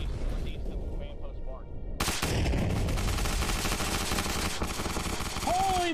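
Heavy automatic gunfire rattles on without a break in a first-person military shooter, the loud bursts layered over each other, with faint radio chatter and game noise beneath.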